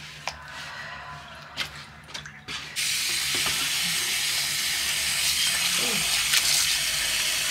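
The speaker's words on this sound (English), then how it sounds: "So I'm gonna fill it up some more." Water gushes from a tap into a container for an apple cider vinegar weave wash, starting after a few soft handling clunks and then running steadily and close at a constant level until the end.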